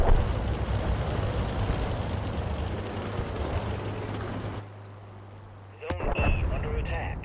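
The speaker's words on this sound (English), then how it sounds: "See if we can get the artillery strike" Artillery strike in World of Tanks Frontline mode: a loud, sustained rumbling barrage with a low droning engine hum beneath, which drops away abruptly before a sharp crack and a fresh burst of noise near the end.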